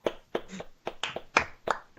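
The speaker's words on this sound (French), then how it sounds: "Léon, on peut l'applaudir pour le travail qu'il fournit sur les JDR." A small group gives a brief burst of scattered hand claps, several distinct near claps in uneven rhythm, over about two seconds with no talking, to honor a role-play game player.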